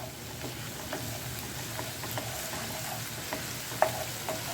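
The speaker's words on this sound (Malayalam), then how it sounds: "ഇനി ചെറിയ ഉള്ളി ഇടുക." Small onions fry in a pan for a chicken dish, giving a soft, steady sizzle with faint stirring clicks and a brief louder scrape near the end.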